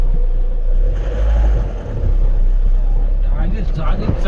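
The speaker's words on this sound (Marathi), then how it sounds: "पिकअपला काही फरक पडत नाही जागीच चढ असण्याचा, ती कुठं पण चढते." A pickup truck's engine labours up a steep slope, a steady low rumble that swells as it climbs, heard from inside or close by, with talk over it.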